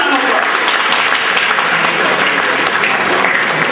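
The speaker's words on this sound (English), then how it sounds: "I would like you to applaud and welcome Shri Bhargade, who is the head HR of PSPL. Give a round of applause." Steady audience applause fills a quiz event hall, a dense continuous clatter of many hands held at an even, fairly loud level throughout.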